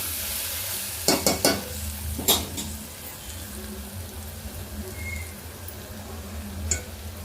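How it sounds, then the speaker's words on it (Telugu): Onions frying with ginger-garlic paste in a pan for an Andhra-style mutton curry sizzle steadily, with a few sharp scraping stirs near the start and another around the middle, close and alone. "అల్లం వెల్లుల్లి కూడా బాగా పచ్చివాసన పోయే వరకు వేసుకోవాలి."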